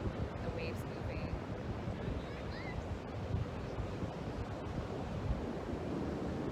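Ocean waves washing in a steady, continuous surf roar mixed with wind rumble, with a few faint high chirps near the start.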